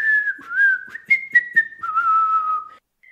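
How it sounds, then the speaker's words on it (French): A person whistles a wandering, tuneful melody for a fox walking away in a French children's story. The clear, close whistle is broken by a few soft breaths and clicks before it fades out. "Le renard noue le sac, le jette sur son épaule et s'en va en sifflant."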